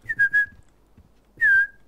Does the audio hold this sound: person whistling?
yes